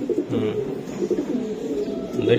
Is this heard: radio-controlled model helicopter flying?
no